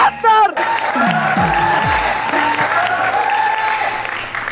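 An audience claps at a Nepali comedy show, a dense, loud burst of applause that runs steadily after a short spoken line at the start, with voices talking over it.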